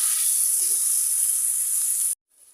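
Ginger and garlic fry in a pan for a country chicken bhuna, giving a steady bright sizzle up close that cuts off abruptly near the end.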